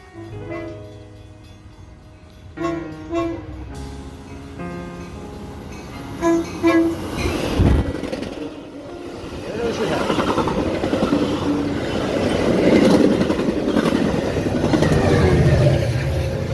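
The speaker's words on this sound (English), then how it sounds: "Express train blew my hat off." Metra express train on the Rock Island District rushes past with a loud horn blast, its roar building and staying heavy through the second half, with lighter rail rumble and clatter beforehand.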